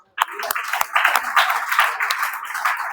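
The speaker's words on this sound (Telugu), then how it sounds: "ఈ క్లాప్స్ ఎవరికి కొట్టారు ఇప్పుడు?" Schoolchildren in a school meditation class break into a round of clapping, a dense burst of many small hands that starts abruptly and carries on steadily, close and fairly loud.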